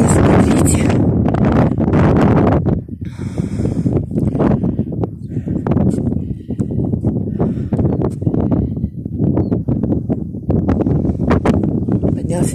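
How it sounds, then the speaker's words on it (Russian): Gusty wind on a high clifftop above the sea near Anapa buffets the microphone in rough bursts, while a person talks over it throughout. "Немножко ветер."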